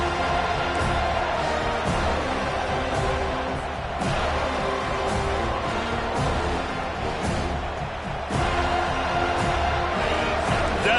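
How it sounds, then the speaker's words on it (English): A football stadium crowd roars for the defense on 3rd down, a dense, sustained wall of cheering and whooping that swells steadily, heard from within the stands with no clear talk. "Decibels rising as the crowd gets behind this defense on 3rd down"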